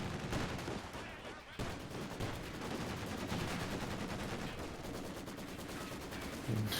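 Maxim machine gun in a video game firing a long, steady stream of rapid shots, fairly faint and continuous under mixed battlefield noise with distant gunfire.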